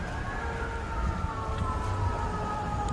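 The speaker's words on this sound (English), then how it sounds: "you hear all the sirens?" City emergency vehicle sirens wail in the Bronx, a steady rising-and-falling tone over low traffic rumble, moderately distant and continuous with no talking.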